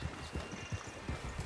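Horse hooves clip-clopping at a steady walking rhythm in the Red Dead Redemption 2 video game, a string of dull, evenly spaced thuds close by with a faint outdoor background and no talk.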